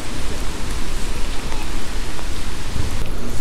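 Steady rain hiss while riding an e-bike on a rainy day in South Holland, a continuous broadband wash of falling water and wind noise, close and loud throughout with no talking.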